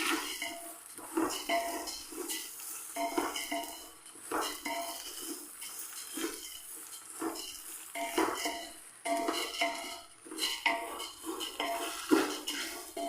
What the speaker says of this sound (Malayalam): നമ്മുടെ റൈസ് തമ്മിലൊന്ന് ഒട്ടാതിരിക്കാൻ വേണ്ടിയിട്ട് ഇതേപോലെ ഒന്ന് വറുത്തെടുക്കാം